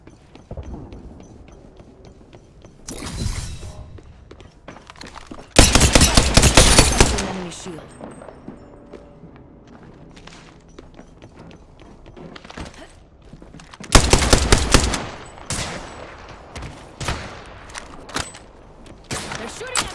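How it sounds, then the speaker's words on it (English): Gunfire in the game Apex Legends: scattered single shots and two loud, sustained bursts of rapid automatic fire, close and harsh, with quieter clicks, thuds and game voice lines in between. "They're shooting at me!"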